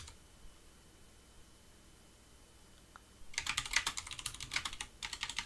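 Quick bursts of typing on a computer keyboard with a sticky, faulty O key, crisp close clicks arriving in rapid runs after a quiet stretch of faint background hiss.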